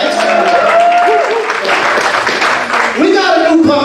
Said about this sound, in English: Dog lovers, clap your hands.